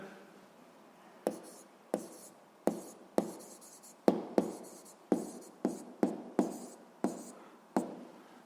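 Handwriting with a pen or chalk, heard as a dozen or so sharp taps and short strokes in an irregular rhythm, close and fairly quiet against a hushed room.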